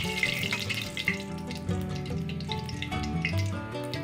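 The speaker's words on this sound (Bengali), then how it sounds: "তেলটা গরম হয়ে গেলে দিয়ে দিচ্ছি একটু জিরা ও তেজপাতার ফোড়ন। আর একটু ভেজে নিচ্ছি।" Cumin seeds and bay leaf fry in hot oil for a Bengali cauliflower and rui fish curry, giving a low, steady sizzle with light crackles under a tonal background hum.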